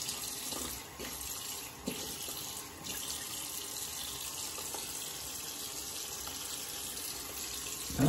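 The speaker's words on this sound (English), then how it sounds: "Get my face rinsed off real quick." Steady running water from a faucet into a sink while a face is rinsed off after a shave with a Gillette Contract razor, a continuous close wash with brief splashy bursts and no talking.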